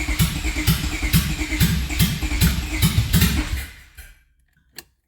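Honda J-series V6 swapped into an EJ Civic, with fuel pressure issues, cranks and sputters in rhythmic uneven chugs, loud and close, before dying out into near silence, followed by one sharp click.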